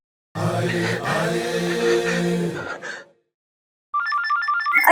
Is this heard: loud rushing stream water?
no